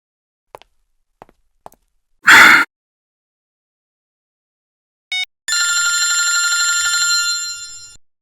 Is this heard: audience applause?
no